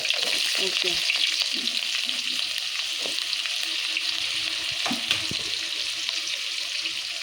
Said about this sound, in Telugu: నూనె వేడెక్కింది పచ్చిమిర్చి వేస్తున్నాం